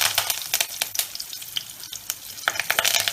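Curry leaves and fennel seeds crackle and sizzle in hot oil in a pan, a close, busy stream of sharp pops and frying hiss.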